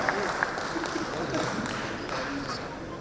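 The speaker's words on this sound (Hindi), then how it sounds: "मुंबई के लिए जोरदार तालियां" Applause for Mumbai at the Tricolour Business Conclave 2021 business event, a steady mass of clapping hands with a hall-like crowd murmur running evenly throughout.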